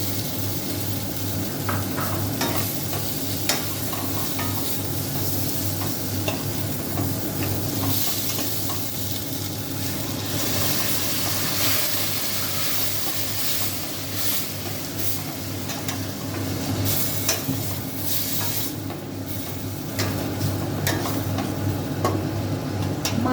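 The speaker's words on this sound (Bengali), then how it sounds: "মুগ চাল সব কষানো হয়ে গেছে সুন্দর গন্ধ বেরিয়েছে এবার আমি এর মধ্যে পেঁয়াজ ভাজা আলু ভাজাগুলোকে দিয়ে দিচ্ছি" Fried onions and potatoes stirred into sizzling mung dal and rice for muri ghonto, a steady close frying hiss with continuous scraping stir strokes throughout, no voices.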